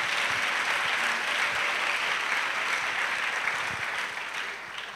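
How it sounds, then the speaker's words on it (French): Congregation clapping during a church prayer service, a steady, dense wash of applause holding at an even level throughout with no voices over it. "Clap for the Lord Jesus."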